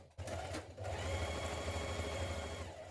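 A sewing machine runs steadily for nearly three seconds, stitching a 1 cm seam on a skirt panel with a continuous close mechanical whir after a brief start.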